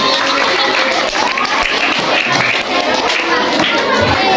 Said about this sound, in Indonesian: Tepuk tangan dulu buat Alvaro dan Irfan ya.